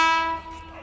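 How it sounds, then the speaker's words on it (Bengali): A train pulling into a station sounds a loud, sustained horn that fades after a moment, brief and close, with no talk. "দেখো ট্রেন ঢুকছে"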